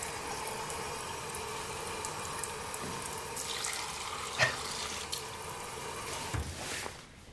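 A tap runs steadily in the video game, a continuous hiss of pouring water with small splashes and a brief louder splash, ending abruptly.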